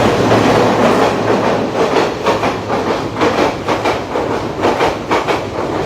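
A train passes on a railway line, close and loud, with a dense rumbling roar and rhythmic wheel clatter running throughout.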